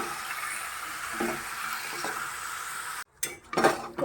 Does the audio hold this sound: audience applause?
no